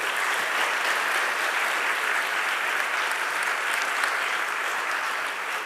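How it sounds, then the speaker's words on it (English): Steady, dense applause from a large audience filling a music theatre hall during a democracy forum, loud and continuous for the whole stretch with no voices over it. "please give them a warm hand of applause"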